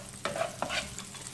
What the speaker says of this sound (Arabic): نضيف القطعة الثانية من الزبدة.